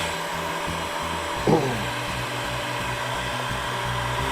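Steady, close whoosh of a heat gun blowing low heat onto a guitar body, a constant airy hum with a brief bump in loudness partway through and no talking.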